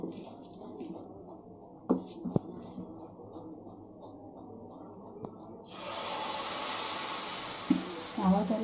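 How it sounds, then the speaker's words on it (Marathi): Amboli batter of rice and urad spreads onto a hot oiled griddle and breaks into a loud, steady sizzle partway through, after quieter scraping and tapping sounds beforehand. "भिडं तापलं आहे, आता आपण त्याच्यावर पोळी घालूया."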